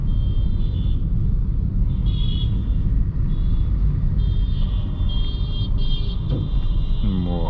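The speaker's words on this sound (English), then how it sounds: "All the car owners are out right now going" Busy rush-hour road traffic rumbles continuously nearby, heard from inside a Toyota Corolla, engines droning and vehicles passing close, with faint higher whines from passing motors.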